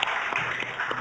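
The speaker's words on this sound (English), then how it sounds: "Big round of applause." Brief, faint patter of audience applause after a cannabis learning-series talk, steady clapping from a modest crowd with no voices over it.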